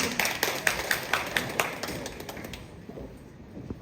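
An audience at a women's congress claps in a brief, uneven burst of separate, fairly close claps that thin out and fade after a couple of seconds.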